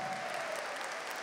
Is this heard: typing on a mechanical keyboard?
no